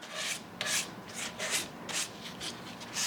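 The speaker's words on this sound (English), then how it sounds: "you want to make sure that you're using like a wet dry sandpaper" Wet/dry sandpaper rubs across a burl-topped bass guitar body during oiling, a series of soft, close rhythmic scratchy strokes repeating roughly every half second.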